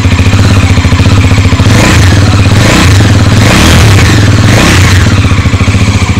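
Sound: motorcycle exhaust note while running

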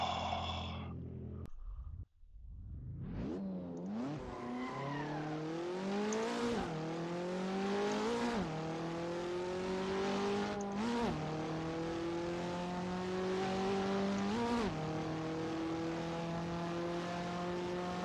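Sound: KTM X-Bow race car engine in video game Assetto Corsa

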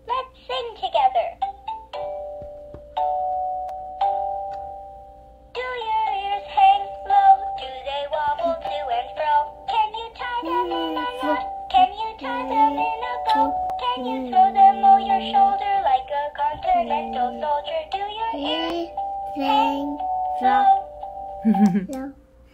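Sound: Baby Gund Flappy the Elephant plush toy singing

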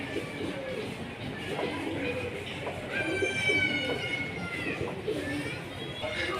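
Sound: pigeons cooing

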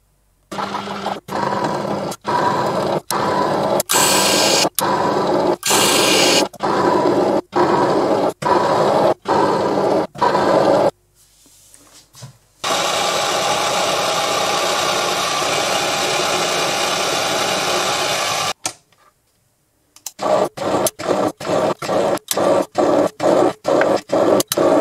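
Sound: lathe cutting threads on silver steel rod

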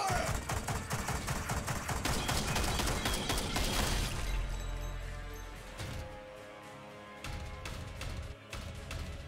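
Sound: gunfire in Warhammer 40K Regicide video game

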